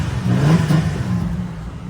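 A 2005 Ford Ranger engine revs up briefly under the open hood, rising to a strong mid-range roar around half a second in, then settling back to a steady idle hum, close and fairly loud with no talking.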